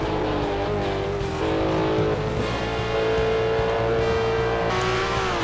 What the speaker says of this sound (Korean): 엔진 소리가 장난이 아니고요.